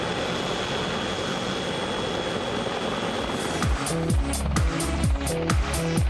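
An AH-64 Longbow Apache attack helicopter flies close and loud: a steady broadband roar gives way midway to a strong, regular thump of rotor blades beating in rhythm until the end, with no voices.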